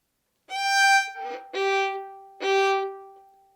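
Violin playing Minuet 2 with a hooked bow stroke, a full bow on the quarter note then the bow divided in half: three clear bowed notes with steady harmonic tone, the second pair briefly linked, played alone and close.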